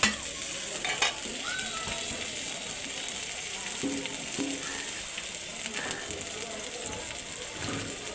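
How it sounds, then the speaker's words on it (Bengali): Onion and chili sizzle in a frying pan while being stirred for chicken vegetable noodles, a steady crackling fry with scraping stirs and occasional clinks close by. "তারপরে একটু নেড়ে নেবো পেঁয়াজটা, মরিচটা ভালো করে একটু"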